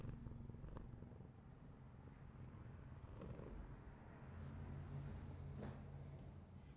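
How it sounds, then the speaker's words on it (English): A soft, continuous low rumble of a cat purring close by, steady throughout with faint rustling and background noise. "Can you hear it purring?"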